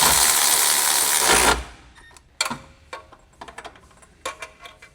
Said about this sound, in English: With medium impact wrench, tighten the low side line retaining bolt.